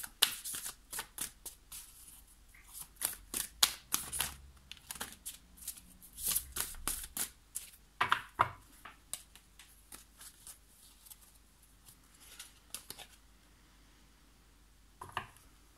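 Tarot cards are shuffled and drawn close up in quick papery riffles and flicks, coming in irregular bursts with quiet pauses between, and no talk.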